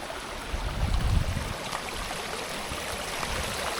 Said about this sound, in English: No lack of water here, flowing down from everywhere.